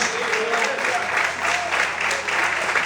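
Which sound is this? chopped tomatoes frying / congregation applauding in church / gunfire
congregation applauding in church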